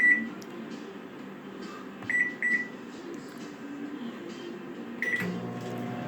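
A secondhand Kenmore microwave oven runs with a low, steady hum, broken by several short electronic beeps and a few soft clunks nearby.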